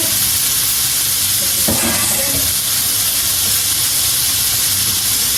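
Loud, constant sizzling and hissing of meat frying in a hot pan for bistec encebollado, with a brief clatter of stirring partway through.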